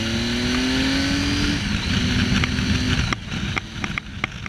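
2015 Triumph Tiger 800 XRx motorcycle with an Arrow exhaust accelerating: a loud, close engine roar rising steadily in pitch through the gear, then a shift and a rougher, pulsing exhaust note as it pulls on.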